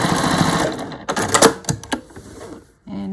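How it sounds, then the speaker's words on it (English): A home sewing machine stitches fluffy ribbon onto a fabric bunting flag in short bursts of fast, close mechanical rattling, broken by brief pauses and stops. "I think I'll just sew in the middle this little bit of fluffy ribbon"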